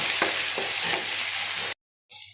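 Onions frying in a pan, a steady close broadband sizzle with a few soft stirring knocks, cutting off abruptly into silence before a brief faint sizzle returns.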